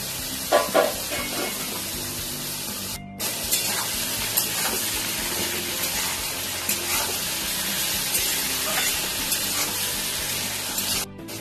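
Hilsa and catla fish fat fry in a pan with a continuous loud sizzle and hiss, broken by two brief silent gaps.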